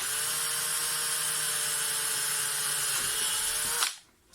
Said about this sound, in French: maintenant que mes points sont faits, je vais pouvoir percer